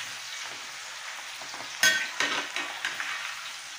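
Banana peel pakoda batter frying in a pan and lightly stirred, a steady hiss of sizzling oil with a few soft scraping stirs, close and moderate, with no talk.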